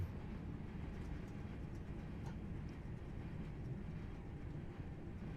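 A crossing train rumbles past in a train simulator game at Bournville near Birmingham, a steady, fairly quiet low drone of wheels and engine running without a break and with no talk over it.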